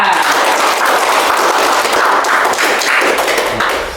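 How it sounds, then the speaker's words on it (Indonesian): Classroom applause for a student during an Islamic religious education lesson on Quran recitation, a dense, loud, steady patter of many hands clapping for about four seconds before tapering at the end. "Beri tepuk tangan untuk Dewi yang khatam 3 kali di Langgar."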